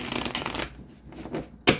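A quick riffle of tarot cards being shuffled, a papery rushing flutter ending in a sharp snap as the deck comes together, close and alone.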